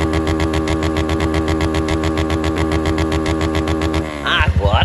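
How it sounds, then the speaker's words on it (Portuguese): A loud motorcycle with a throaty exhaust idles with a steady, rapid pulsing rumble, close up, then revs briefly near the end. "Colocando esse escapamento na minha moto,"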